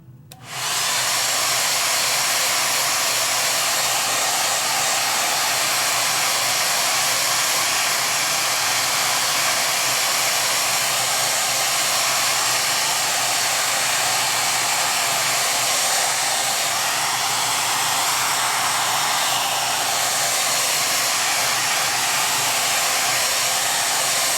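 A hair dryer blows on clay in a press mold for a single bowl form, starting abruptly and then running as a loud, steady whooshing roar close to the microphone, unbroken for over twenty seconds.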